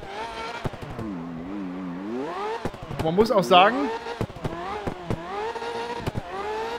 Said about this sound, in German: Tune klingt der Motor aber auch fies